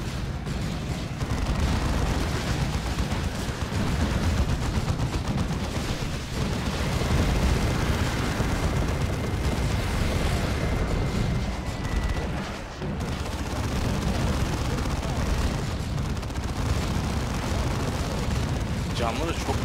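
Explosions in a Warhammer 40,000: Dawn of War II co-op battle, a steady roar of rumbling booms and blasts that runs nearly unbroken throughout, with voices talking over it.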